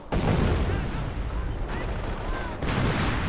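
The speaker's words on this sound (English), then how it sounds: "9 killed, and another artillery strike." An artillery strike lands in a World War II strategy video game, a dense rolling barrage of booming blasts and crackling gunfire that stays loud and close throughout, with a sharp fresh burst near the end.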